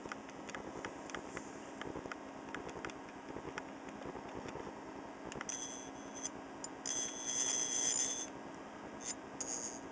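An alarm clock buzzer, a small motor vibrating a metal reed, sounds as a faint intermittent metallic buzz with scattered clicks, swelling into a louder sustained buzz near the end.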